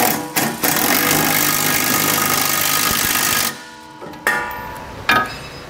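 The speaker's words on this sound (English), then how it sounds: "Then we're gonna snug them down with a 19 millimeter socket." Trailer hitch bolts on a 2017 Mercedes-Benz being snugged down with a 19 mm socket, a loud continuous whirring run of a power tool for several seconds followed by a few short bursts, close up.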